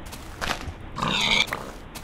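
Pigs in Minecraft grunting, with several short, nasal oinks from close by, including one longer squealing grunt in the middle and a few quieter snorts around it, without speech.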